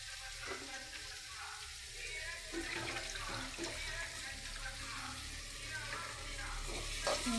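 Onions sautéing in a pan for a Tamil fish gravy, sprinkled with rock salt, give a steady, fairly loud broadband sizzle throughout, with a faint voice occasionally beneath it.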